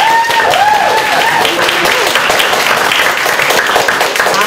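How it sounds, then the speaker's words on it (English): Loud, close applause for two guests at a fashion-week blogging talk, a dense continuous clatter of hands with a few brief whoops over it. "A little round of applause, I think."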